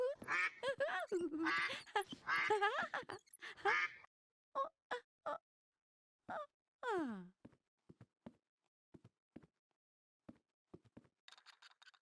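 A plastic toy duck pulled on a string quacks in a series of squeaky, nasal honks, loud at first, then shorter scattered clicks and squeaks with silence between.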